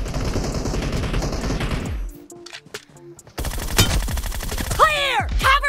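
Loud, dense automatic gunfire from PUBG Mobile fills the opening seconds. After a short lull, more rapid shots follow, along with game effects.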